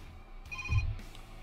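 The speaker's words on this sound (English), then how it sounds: "why my phone has to ring right in the middle of a video" A mobile phone rings once briefly, a short electronic tone burst with a low buzz beneath it.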